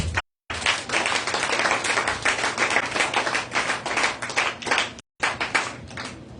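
A church congregation at a Sunday praise and worship service claps and cheers for Jesus, with dense, sustained applause and scattered shouts rising together, broken by two brief cutouts.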